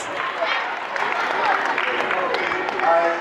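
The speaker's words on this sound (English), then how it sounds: "Clap for yourselves." Students at a currency education event applauding, a brief, dense patter of many hands clapping with crowd voices mixed in.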